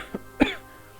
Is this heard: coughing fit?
yes